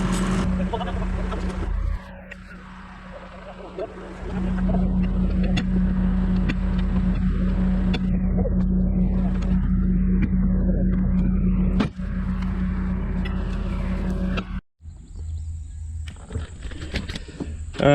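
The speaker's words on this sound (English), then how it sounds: "I'm gonna see if I can get this rig home with the flat tire" A rig with a flat tire drives slowly along, its engine droning steadily with a low rumble underneath, dipping briefly a couple of times.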